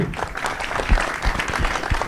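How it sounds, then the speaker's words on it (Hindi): Audience applause fills the hall at a live trailer launch event for the film Bhaiyya Ji, a steady dense clapping from a large crowd close by, with a few louder bursts. "तो चलिए जी एक बार जोड़ा ताली होनी चाहिए अपूर्वा के लिए।"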